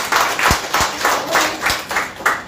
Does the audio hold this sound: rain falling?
no